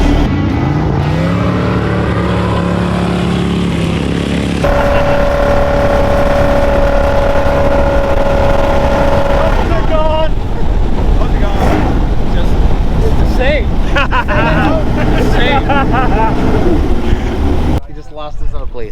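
Boat engine revving on Lake Powell, loud and sustained, rising through the opening seconds and then holding a steady high drone before turning rougher, with people talking over it and a brief drop near the end.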